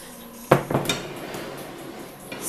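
Food is set down on a plate with a sharp ceramic clack followed by a few lighter clinks and taps of utensils against the dish, close and clear, then quiet.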